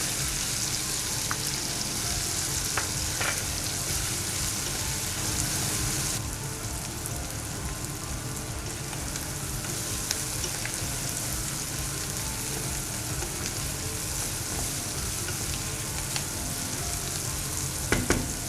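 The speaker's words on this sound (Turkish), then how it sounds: "İyice kavrulmuş olan etlerimizin üzerine arpacık soğanlarımızı, yoksa da yerine bir orta boy doğranmış yarım ay soğanımızı ilave ediyorum" Meat and onions sizzle steadily in a hot pan, a dense continuous crackle and hiss with no voices, close and even throughout.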